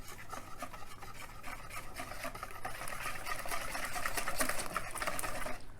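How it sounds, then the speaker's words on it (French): Flour and milk batter whisked until smooth for a salmon cake, a steady scraping, rattling stir that runs continuously and grows slightly louder and busier toward the end, close and alone without talk. "On mélange jusqu'à qu'il n'y a plus de grumeaux."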